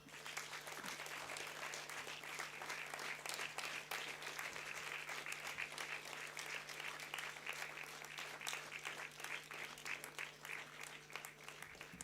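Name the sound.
audience applause at a convocation ceremony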